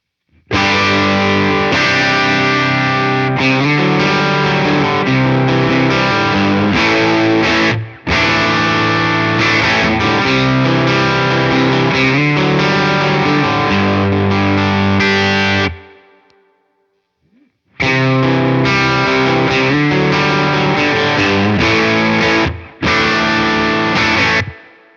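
Electric guitar driven through Kinky Boost and EP Booster pedals on a Temple Audio board into a Tone King preamp, playing loud, thick boosted chords and riffs with two abrupt stops, one nearly silent gap before playing resumes, no voices.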